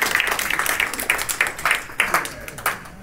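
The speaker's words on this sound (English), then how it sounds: "Big round of applause." A small group at a blockchain hackathon applauds a presentation with scattered, uneven claps that gradually thin out over a few seconds.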